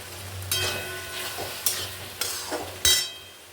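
Prawns are dropped into frying masala with softened jackfruit and stirred, giving a steady close sizzle broken by several scraping stirs of a spatula in the pan, with no talking.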